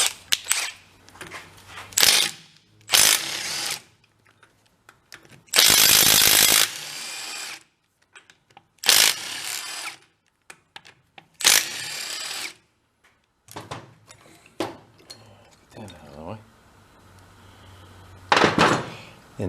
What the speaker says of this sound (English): let's get a socket for them and get that head off of there